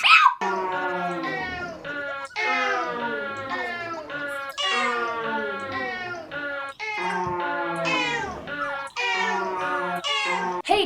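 A cat meows close up over and over in long, drawn-out, almost continuous wails with only brief gaps between them.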